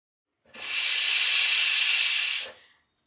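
A pressure cooker holding rice and toor dal lets off one sharp, loud hiss of escaping steam lasting about two seconds, close by, starting and stopping abruptly with quiet on either side.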